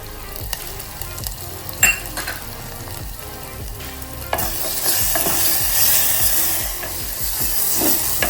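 A spoon stirs ginger garlic paste and turmeric in a pot for chicken curry, giving a few scraping knocks at first before a soft frying sizzle swells and keeps going under irregular stirring scrapes.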